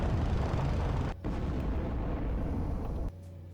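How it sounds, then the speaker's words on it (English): Flak guns firing in the video game Wings Remastered: a dense, steady roar of bursts and booms with a brief dip partway through, then settling into a lower rumble. "you'll see that there are flak guns already as well firing at me"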